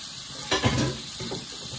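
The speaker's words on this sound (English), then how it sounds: "So, you'll hear me washing in the background." Knife and pan being washed in a kitchen sink after cooking a chicken and vegetable stir fry: a short burst of running water and splashing with a light clink of cookware, then quieter rinsing against a steady background hum.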